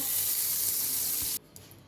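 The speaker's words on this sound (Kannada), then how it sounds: "ನೋಡಿ, ಫಸ್ಟು ಒಗ್ಗರಣೆಗೆ ಬೆಣ್ಣೆ ಹಾಕ್ತಾಯಿದ್ದೀನಿ." Butter hitting a hot pan for a tempering, giving a loud steady sizzling hiss for over a second that then cuts off abruptly to a faint, quieter sizzle.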